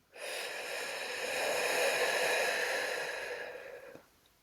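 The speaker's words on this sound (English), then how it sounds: "if by now you're not enjoying the sound of me sniffing, I do apologise" Close, breathy nasal inhale during a breathwork exercise for sleep and focus, drawn steadily for about three and a half seconds, swelling slightly midway before tapering off into silence.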